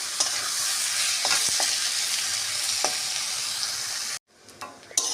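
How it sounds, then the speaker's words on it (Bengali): Cashews and raisins fry and sizzle in a pan for a prawn pulao, a steady loud crackling hiss with occasional spoon scrapes and stirring clicks, briefly cut off before resuming. "দিয়ে এটাকে ভালো করে আমি ভেজে নেব।"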